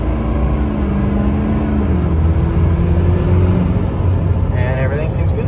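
A diesel pickup truck in two-wheel drive is driven briskly, its engine holding a steady, loud drone from inside the cab while a person talks over it.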